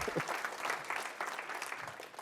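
An audience claps at a live stage event, a dense patter of many hands over a couple of seconds, fairly close and steady without a clear peak.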